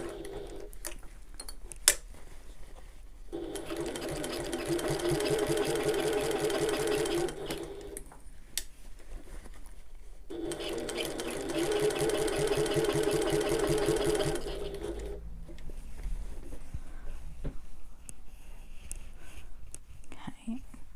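A sewing machine stitches over a strap tab on a Half-pint Hobo bag, two steady whirring runs of several seconds each separated by a pause, close up, with faint soft speech and small handling clicks between.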